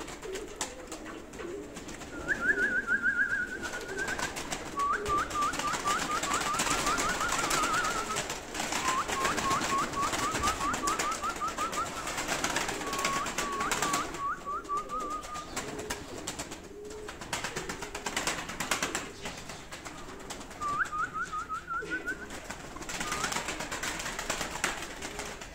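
Pigeons cooing in a loft, several soft rolling coos repeating at intervals over a steady background hiss.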